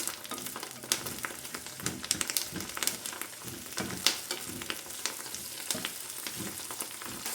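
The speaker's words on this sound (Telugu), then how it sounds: "ఒక 7 వెల్లుల్లిపాయ రెబ్బలు, ఒక 12 పచ్చిమిర్చి వేసుకొని ఇవి కొంచెం ఫ్రై అవ్వాలి" Garlic cloves, green chillies, ginger and coriander fry in a pan for a home-style biryani. A continuous crackling sizzle with scattered pops and spatters holds at a steady, moderate level with no voices.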